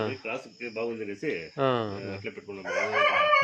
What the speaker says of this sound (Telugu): ఇవి దేవుడి కోళ్ళు